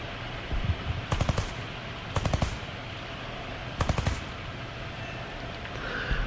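Three short bursts of rapid automatic fire from an AA gun in the War Thunder video game, each burst a quick rattling string of shots, over a steady engine hum, with no talking.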